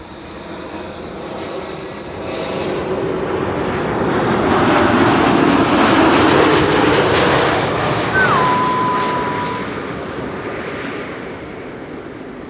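A turboprop airliner lands on Runway 06, the Kaagbaan, at Amsterdam Schiphol. Its engine drone swells to a loud pass midway, with whining tones sliding downward, then fades slowly.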